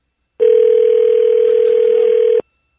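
A telephone call rings out toward voicemail, heard as a single loud, steady ring tone lasting about two seconds that starts and stops abruptly, with no voices.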